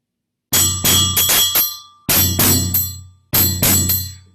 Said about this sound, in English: I'm trying to remember the bell.